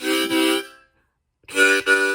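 Two bright, reedy harmonica blow notes played close up, each held under a second, separated by a short silence.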